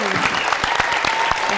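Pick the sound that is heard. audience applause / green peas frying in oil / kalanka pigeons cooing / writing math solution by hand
audience applause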